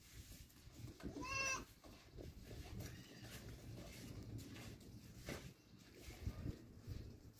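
Goats, including kids, bleating at a livestock market pen, one loud close wavering bleat followed by fainter calls amid rustling and background voices.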